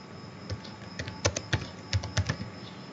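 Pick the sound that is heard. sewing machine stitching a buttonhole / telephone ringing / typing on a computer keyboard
typing on a computer keyboard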